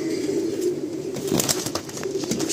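Madrasi and Andhra pigeons being released nearby, with steady close cooing and some wing flutters.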